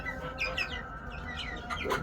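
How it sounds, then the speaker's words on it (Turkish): Young Bresse chicks cluck and peep close by in quick bursts, with a steady low background hum under them. "Bunlar sezonun arkadaşlar son civcivleri."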